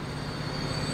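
Train running along a rail line in Transport Fever 2, a steady close rumble of wheels with a sustained high metallic squeal throughout.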